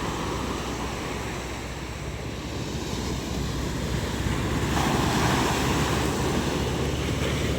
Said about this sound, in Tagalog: Kahit malaki ang alon